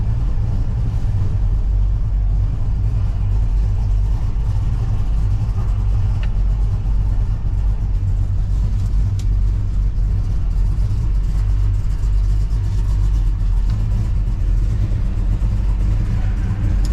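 A muscle car engine idles with a deep, steady, loud rumble close by at a car show move-in, continuous and even throughout without revving.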